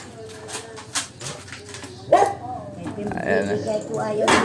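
A dog, a mother that has recently given birth, barks a few times in short, close bursts, mixed with whimpers and people talking nearby.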